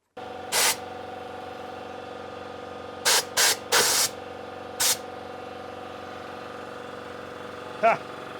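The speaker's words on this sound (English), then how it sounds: "I just shot that lube all over the place" Lubricant spray from an aerosol can, near a 6-volt 1950s Porsche 356 being rewired, comes in short hissing bursts: a single spurt, then a quick cluster of three and another single, over a steady low hum.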